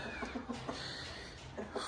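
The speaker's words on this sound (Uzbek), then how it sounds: "Bu yoqda mana tovuqchalarimiz kutishyapti bizda." Chickens cluck softly in short, scattered calls, a little way off and fairly quiet, with no talking.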